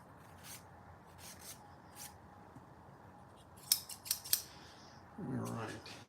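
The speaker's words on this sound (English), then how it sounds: "So now I'll just use a little bit of rubbing alcohol. Scotch Brite pad." Sewing shears are wiped with rubbing alcohol on a Scotch-Brite pad, giving faint, close rubbing and a few light metallic clicks and scrapes in an otherwise quiet space.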